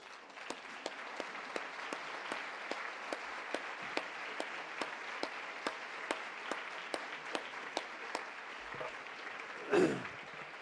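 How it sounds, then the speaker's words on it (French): An audience claps in a steady, rhythmic unison beat, evenly spaced claps repeating for about ten seconds at moderate distance, with a brief louder thump near the end. "je voudrais vraiment qu'on les applaudisse"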